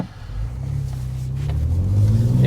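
A 2023 Ford Ranger Raptor accelerates on a beach, its engine building from a low rumble to a louder, rising roar as revs climb, with no voices.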